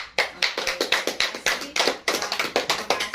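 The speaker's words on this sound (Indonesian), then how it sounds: "Bisa kita tepuk tangan." Children clap their hands together in a quick, uneven round of sharp taps, about a dozen bursts over a few seconds, close and clear with no talking.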